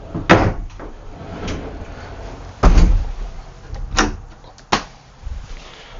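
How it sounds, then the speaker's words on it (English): Pocket doors in a 2025 Showhauler 4x4 overland coach slide and bump shut, giving several sharp knocks and thuds with soft rolling movement between them, close by and with no talking. "We were able to come up with 2 pocket doors."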